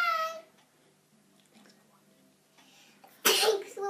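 A sudden loud sneeze bursts out near the end of a quiet stretch, preceded by a short high-pitched cry at the start; brief, close and sharp.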